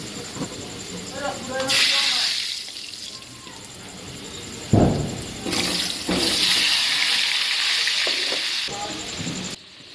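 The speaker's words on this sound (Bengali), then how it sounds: "তেল গরম হয়ে গেছে, নুন আর হলুদ দিয়ে আলুটারে ভাজা নিন।" Potatoes fry in hot white oil with salt and turmeric, producing a loud, close, hissing sizzle that swells in broad bursts and fades between them, with a voice talking briefly near the start.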